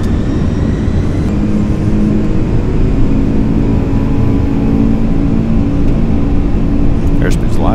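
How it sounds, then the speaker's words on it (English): A NASA Boeing 747SP, the SOFIA science aircraft, has its engines at takeoff thrust on the runway, heard from the cockpit as a steady, loud, broad roar that holds throughout. "Releasing brake and set takeoff thrust."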